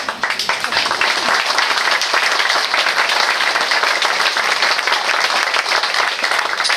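Audience at a spring concert breaks into loud, dense applause, a continuous roar of many hands clapping close by that holds steady throughout, with a slight rise at the start and a fall at the end.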